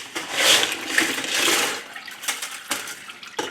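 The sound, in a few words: soapy water poured from a rock tumbler barrel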